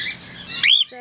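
A cockatiel gives a short, bright rising chirp from a carrier holding eight cockatiels about to be released into an aviary, after a stretch of quieter rustling.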